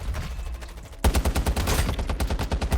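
RAM-9 submachine gun fire in Warzone Mobile: after a quieter moment, a loud close burst of rapid automatic shots in a fast, even rhythm continues to the end.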